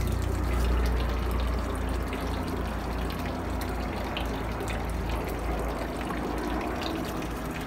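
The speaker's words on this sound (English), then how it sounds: "And just let that bubble up." Water bubbles up steadily from a heavy container sunk to the bottom of a vessel of rainwater mixed with fish water, a continuous close gurgling and fizzing that runs throughout with no talking.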